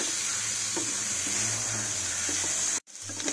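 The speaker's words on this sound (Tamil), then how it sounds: "இப்போ இந்த வெங்காயத்தோட நம்ம சேர்த்துக்கலாம் ஸோ இதை நம்ம நல்லா வதக்கிக்கலாம்" Mutton liver sautéing with onions in oil for a pepper fry, giving a loud, dense sizzle that holds steady before cutting out sharply near the end and then resuming briefly, with faint stirring taps and no talk.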